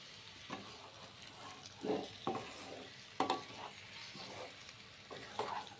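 Korameenu fish pieces frying in a pan and gently turned, a faint steady sizzle with several soft scraping and clinking strokes spaced through the passage.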